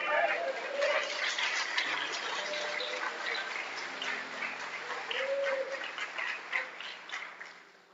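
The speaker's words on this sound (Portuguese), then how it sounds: "Você pode aplaudir Jesus por isso?" A Baptist church congregation claps in a broad continuous wash, with voices and murmurs rising through the applause before it thins out near the end.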